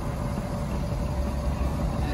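A Ford Super Duty diesel pickup engine idles with a steady, low rumble, continuous and fairly close throughout, with no talking over it.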